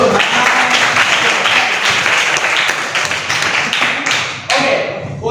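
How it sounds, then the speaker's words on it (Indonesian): Students in a classroom clap their hands together in a dense, continuous burst of applause up close, with voices mixed in throughout. "itu tepuk tangan dulu"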